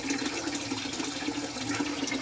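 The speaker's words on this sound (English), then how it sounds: "So, there's my water filling up down there." Water from a home water filter system fills a container below with a steady, continuous gushing and splashing stream, fairly close and constant throughout, with no talking.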